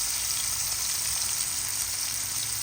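Onion and tomato sauté in oil left from frying fish, a steady close hiss of sizzling with faint stirring beneath and no talking.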